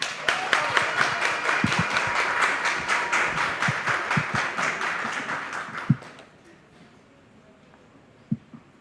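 Audience applause at a Haitian football federation ceremony, a dense burst of many hands clapping steadily for about six seconds before cutting off into quiet room tone with a couple of faint knocks.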